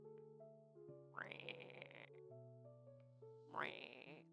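A person's voice imitates a frog's croak, giving two rising, buzzy brap-like bursts over a steady background of soft tones, each burst lasting about a second and fairly close.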